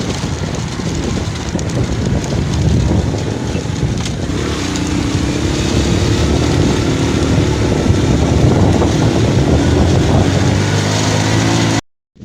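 Motorbikes ride along a badly broken, dangerous road, a loud continuous engine drone with rattling and jolts from the rough surface, close and steady until it cuts off abruptly at the end.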